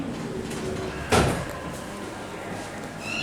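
A Cotswold generic hydraulic lift at the Horniman Museum, Forest Hill, slides its doors with a short thud and rumble near the middle of the clip, set against steady background hum.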